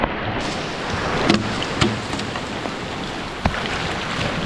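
Rain drips and patters steadily onto broad palm leaves in the Amazon rainforest, a dense close hiss with a few sharper drops standing out, and no talking.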